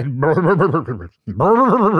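A human voice imitates a horse whinny or an engine starting, with two loud, wavering, neigh-like bursts separated by a brief gap.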